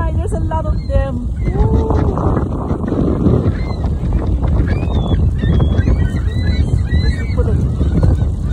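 A flock of geese honks repeatedly, close and from several directions, under a constant low rumble of wind buffeting the microphone on a cold, windy day, while people talk now and then.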